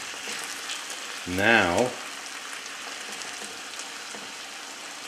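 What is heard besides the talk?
fish cooking in a covered pan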